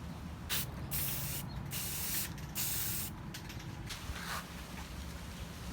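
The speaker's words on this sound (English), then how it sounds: "Now on to priming." Rock sliders for a Land Cruiser 100 series being primed with an aerosol can: several close bursts of hissing spray, each a second or so long, with short gaps between.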